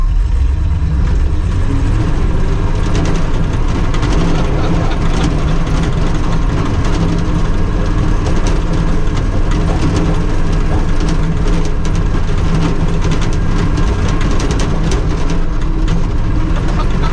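Snow cat off-road tow truck with 4-inch cleats running in gear on dirt, a steady loud low engine drone with rumbling track clatter throughout, no voices.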